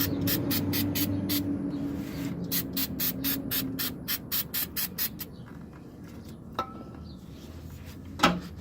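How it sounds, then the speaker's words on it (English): Brake cleaner sprayed onto a rear differential on a 1997-2002 Ford Expedition or 1997-2003 F-150 to remove residue, heard as a rapid series of short hissing spray bursts, then a pause and a couple of faint clicks. "We will now use a little bit of brake cleaner to remove the residue."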